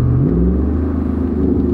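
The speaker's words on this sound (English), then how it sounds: "I'd be happy just listening to the exhaust sound on this thing all day long." Deep V8 exhaust rumble from a Jeep, a steady loud low burble that swells slightly as the engine picks up.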